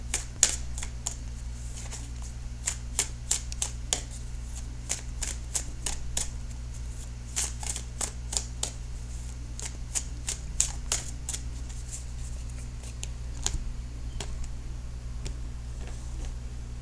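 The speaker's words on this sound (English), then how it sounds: "So I am going to shuffle for the outcome card." Tarot cards being shuffled by hand, heard as a close, soft series of quick crisp riffles and taps over a steady low hum.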